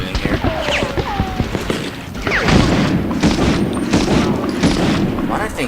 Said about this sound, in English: Shoot that rocket in here.